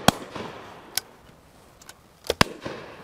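Shotgun blasts ring out at an outdoor clay pigeon shoot on Leighton Long Mountain: one sharp crack, another just under a second later, then a close pair near the end, each with a short decaying tail over quiet ambience.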